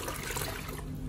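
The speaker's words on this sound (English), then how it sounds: "I just scoop and place it on the bucket." Aquarium water is scooped and poured into a bucket during tank maintenance, a brief close splashing pour that tails off quickly.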